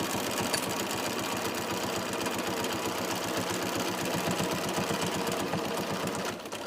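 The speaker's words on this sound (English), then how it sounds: "the noise of the sewing machine can be very therapeutic" A sewing machine runs steadily up close while quilting, its needle chattering in a fast, even mechanical rhythm that slows and stops right at the end, with no voices.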